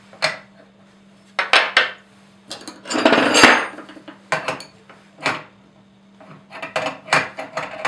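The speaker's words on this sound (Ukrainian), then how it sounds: "Затягуємо гайку." A nut is tightened by hand on a BKO-50 gas pressure reducer, producing close, loud metallic clanks and scraping tool contacts in irregular bursts with a longer grinding turn in the middle.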